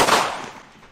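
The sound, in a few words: gunshot from a firearm firing blanks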